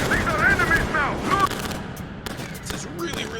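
Gunfire in the Metro Exodus game, The Two Colonels DLC: a loud, dense burst of shooting that rumbles on for the whole stretch, with a voice talking over the first half.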